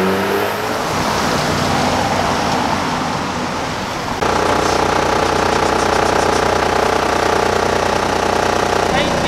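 A Cape Town city sightseeing bus drives along with a loud, steady engine and road roar that shifts partway through, and voices talk over it.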